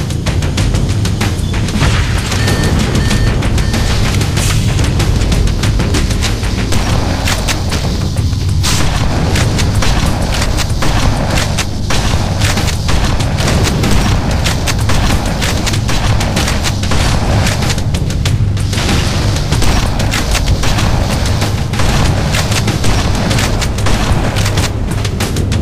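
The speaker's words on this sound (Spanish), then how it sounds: "Eso bastará para iniciar una explosión descontrolada de los motores." Engine reactor explosions in the video game Halo Custom Edition, a dense, continuous barrage of loud booms and blasts rumbling without pause throughout.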